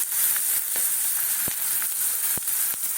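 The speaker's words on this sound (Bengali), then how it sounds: "জল দেওয়ার আগে পোস্ত তিলকে ভেজে দেবে বলছি" Poppy seeds and sesame seeds frying in hot oil for a meat curry, giving a steady close sizzle with occasional sharp pops and crackles.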